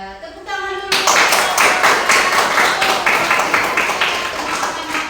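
After a brief voice and tone, a group bursts into brisk applause, many hands clapping steadily until the end.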